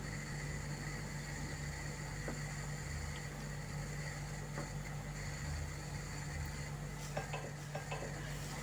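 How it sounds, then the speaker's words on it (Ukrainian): Varenyky stirred gently in a pot of water, with soft scraping and faint clinks over a steady low hum of the stove. "І легенько перемішуємо"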